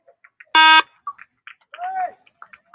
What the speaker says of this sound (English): And we'll wait for this buzzer here.